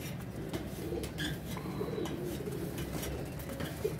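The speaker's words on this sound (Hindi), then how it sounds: "सब कबूतर उड़ू दिए हैं" Pigeons coo softly at a loft where birds are being flown, low throaty murmurs repeating under faint background noise and occasional distant chirps, with no talking.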